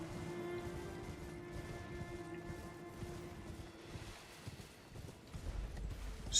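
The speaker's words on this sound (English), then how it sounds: "So, hop onto our horsey horse and show no remorse." A horse galloping in the video game Elden Ring: quiet, rapid rhythmic hoofbeats run steadily under a faint hum, loosening toward the end.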